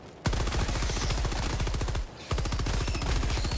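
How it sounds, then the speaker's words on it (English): Stalwart light machine gun from Helldivers 2 firing in sustained rapid bursts, close and loud, with a brief pause in the middle before the stream of shots resumes. "I'm going to start off actually with the Stalwart. It is the light armor pin machine gun."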